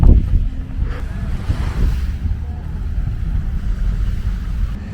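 Ocean waves wash onto the Burj Al Arab beach in Dubai on a scorching hot day, a steady broad surf rumble close by, mixed with gusts of wind buffeting the microphone and no voices.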